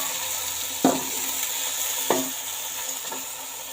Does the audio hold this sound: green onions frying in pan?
yes